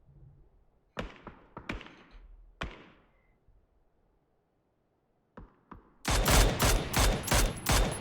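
Gunfire in the video game PUBG during a competitive esports match: a few isolated distant shots spaced apart, then a dense, loud burst of rapid automatic fire near the end.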